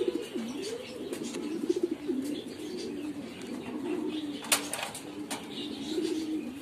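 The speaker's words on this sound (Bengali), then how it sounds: "ওই মিউটেশনের আরেক জোড়া কবুতর এগুলা।" A pair of mutation pigeons in a pigeon farm coo in repeated warbling rolls close by, joined by occasional chirps and a brief flutter of wings.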